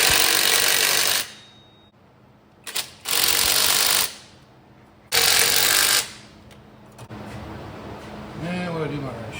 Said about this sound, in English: Tighten these bolts down on the bracket.